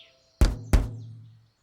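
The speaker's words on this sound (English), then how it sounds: "When you tap it and the watermelon sounds like this." Two hollow, resonant thumps from tapping an unripe watermelon, about a third of a second apart, close and fairly loud, each ringing briefly with a low, deep tail.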